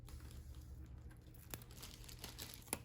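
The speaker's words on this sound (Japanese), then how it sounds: "サランラップでマスキングします。" Plastic cling wrap crinkles faintly while it is laid over a laptop part for masking, soft rustles building into a few brief crackles near the end.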